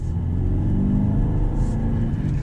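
Turbocharged AMG engine of an Aston Martin DBX, a deep, meaty low rumble heard steadily from inside the cabin while driving, with no talk over it.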